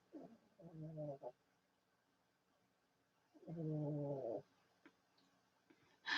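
A cat snoring indoors, two long, faint, low rasping breaths separated by quiet, heard alone at low volume.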